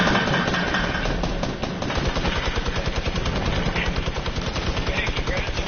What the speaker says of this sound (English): Somebody's shooting me there.